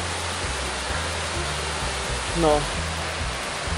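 Steady broadband rush of flowing water and a waterfall in a Norwegian fjord, a constant close wash of noise with a brief voice-like tone partway through.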